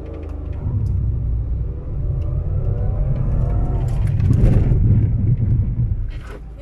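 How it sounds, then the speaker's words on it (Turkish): A car on a driving-school practice course accelerates under a steady engine rumble, then the pitch shifts and a burst of noise marks a sudden hard stop between the cones, all close and fairly loud with wind buffeting the microphone. "Şimdi ani frenimizi ilerideki iki dubayı geçmeyecek şekilde yapalım."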